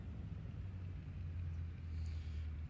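Car engine from the Forza Horizon racing game, heard as a low steady rumble, faint and continuous with no talk.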